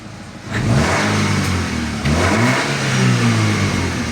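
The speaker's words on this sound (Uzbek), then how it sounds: "Bosing qani bitta gaz." A Chevrolet Nexia 2 1.6 DOHC engine revs loudly up close, climbing in pitch twice in quick bursts before holding at a high, rough drone.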